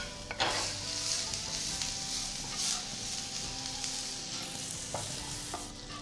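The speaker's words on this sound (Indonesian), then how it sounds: "Sisakan sedikit minyak lalu tumis jahe dan bawang putih." Ginger and garlic sauté in a little leftover oil with a steady close sizzle, and a few sharp scrapes from a stirring utensil break through it. No voices are heard.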